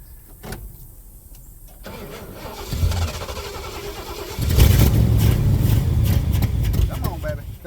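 An old truck with a 460 engine cranks repeatedly and struggles to catch, the starter churning loudly and close by as the engine sputters and builds toward a rough run, with voices talking over it.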